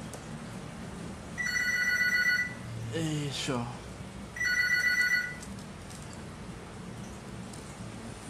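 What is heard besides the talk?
telephone ringing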